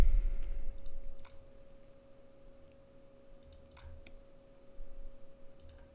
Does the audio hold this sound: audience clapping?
no